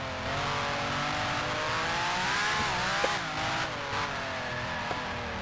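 A works F1 car in a racing simulator at Zandvoort, short on torque, revs with a rising multi-harmonic engine whine that dips and climbs across several throttle changes. It is joined by a couple of brief sharp clicks, with no talking.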